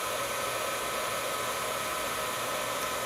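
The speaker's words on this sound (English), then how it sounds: "Now I'm going to grab my heat tool and I am heating from underneath." A heat tool blows steadily from underneath a greeting card, melting embossing powder, giving a continuous close, loud, even whoosh of hot air with no pauses.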